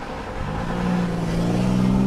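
Autocross cars on an ice track at a Glenwood, Minnesota event, a steady engine drone that builds in loudness with a rising harmonic whine, no talk over it.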